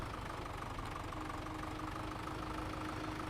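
A Massey tractor engine in Farming Simulator 17 drones at a steady, even pitch, a continuous low rumble at moderate volume with no voices.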